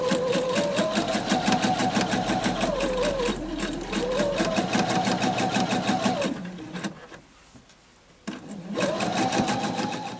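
A sewing machine runs steadily, stitching bag lining fabric for a Cityhopper tote, with a close rapid mechanical chatter that pauses briefly near the end before resuming.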